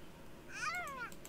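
A calico cat gives a single short, faint meow that rises and falls, close by in a quiet indoor room.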